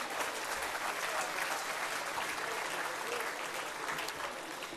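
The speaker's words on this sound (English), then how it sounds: "Give him a round of applause." Audience applause greets award winner John Stockbridge at the WAiTTA 22nd Awards in 2013, a steady, dense clapping crowd that holds strong throughout and fades slightly at the end.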